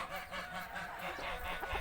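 Geese honk faintly from a distance over a steady wash of outdoor noise, their calls brief and broken up across the short stretch.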